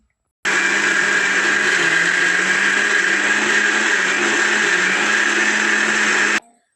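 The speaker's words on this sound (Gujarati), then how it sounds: "તો હવે સરસ મજાનું પાછું મિક્સર જારમાં પીસી લેશું બધું." A mixer grinder blending red chili chutney whirs loudly and steadily for about six seconds, starting and stopping abruptly, with no talking.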